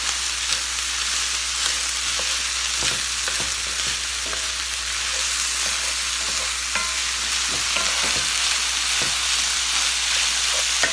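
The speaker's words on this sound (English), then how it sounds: "Also adding some scallions right now, so those are green onions." Scallions and frozen peas frying and being stirred in a hot pan give a steady close sizzle and hiss, broken by scattered scraping ticks of the utensil.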